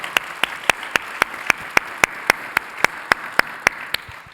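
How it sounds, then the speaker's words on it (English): A small audience at a conference luncheon plenary claps in a tight, regular rhythm, each sharp clap landing near and loud at an even tempo, one after another, tapering slightly at the end. "I think that's a round of applause for sure."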